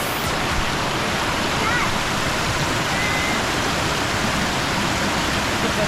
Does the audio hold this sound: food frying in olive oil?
no